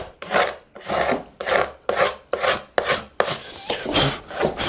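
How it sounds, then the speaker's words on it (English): A card scraper rasps over carved wood on a side table, cleaning off leftover pattern in about eight rhythmic strokes, each a loud close scrape separated by short pauses, with no talking. "just take a card scraper and go around it and clean off any of the pattern that's still on there"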